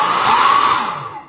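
A repaired hair dryer blows with a loud, steady whirring rush close up, then its airflow winds down toward the end.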